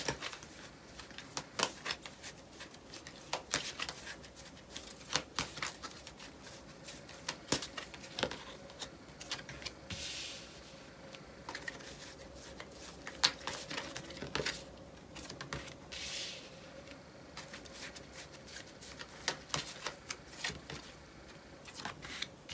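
Tarot cards shuffled and drawn during a reading, a steady stream of soft papery riffles, flicks and taps close by, continuing for the whole stretch with brief louder bursts and no talking.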